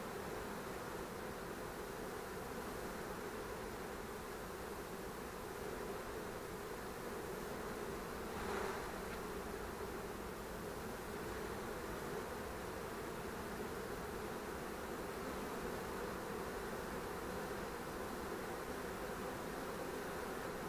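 Honey bees hum steadily around an opened hive during a varroa treatment with complete brood removal, a dense, even drone that holds throughout with no voices.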